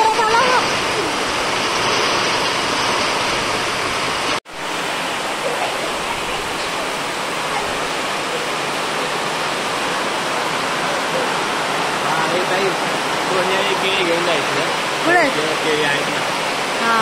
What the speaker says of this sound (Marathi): आम्ही जेव्हा इथं पोहोचलो तर आता बघ किती जोराचा पाऊस सुरू झाला.